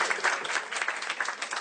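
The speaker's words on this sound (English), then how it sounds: "Let's have a round of applause for Kaveri there." Dense, steady applause from an audience at a volunteers' gathering, close and continuous for its whole short length with no other sound.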